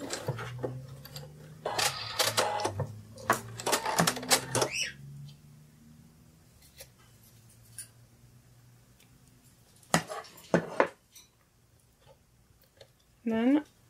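A sewing machine runs in short bursts, putting a couple of stitches through the seam allowance of a sitting kitty plush, with someone talking throughout and quiet gaps between.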